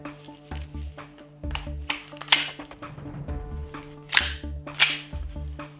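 Airsoft gun fired with a fully loaded magazine, producing sharp close snapping shots: single rounds and quick three-round bursts in an uneven rhythm, with mechanical clicks and a low motor whir between shots.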